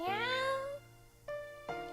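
A cat in the video game Kitty Love gives one long rising meow followed by two shorter meows, clear and close with no talking.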